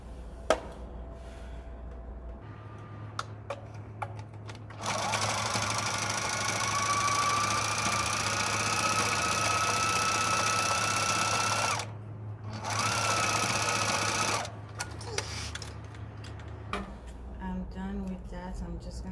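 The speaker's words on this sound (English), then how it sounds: "I'm stitching like a circle again, just all around it" A sewing machine stitches in a circle around a fabric makeup wipe, giving a close, steady mechanical whir in two long runs separated by short stops, with a few clicks and handling noises.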